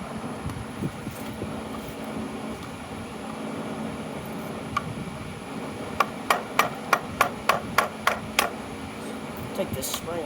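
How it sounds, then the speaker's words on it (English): A hammer knocks on the starter of a 1963 Impala SS during restoration, about ten sharp metallic strikes in a steady, fairly close rhythm over a low background hum, following quieter handling sounds. "Get a hammer too."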